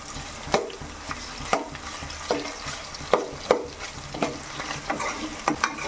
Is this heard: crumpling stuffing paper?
no